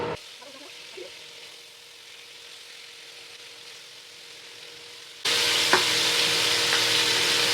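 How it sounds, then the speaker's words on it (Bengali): Spiced chicken drumsticks hit hot oil in a pan, a faint low sizzle at first that jumps to a loud, bright, steady frying hiss with a few crackles and pops partway through. "এবার আমি এটাকে ফ্রাই করব। তেল গরম হয়ে গেছে, এবার আমি এগুলো একটা একটা করে দিয়ে দেবো।"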